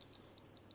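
A multimeter's continuity buzzer beeps in short high-pitched bursts as a capacitor on an LED TV panel is probed against ground, several quick beeps close and clear.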